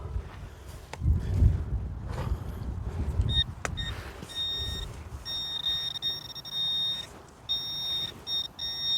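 A high, steady electronic tone pulses on and off repeatedly from a metal detector, over rustling and handling noise in the background.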